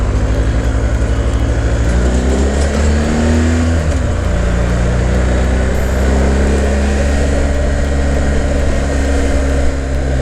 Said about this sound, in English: Trying to get through this traffic here.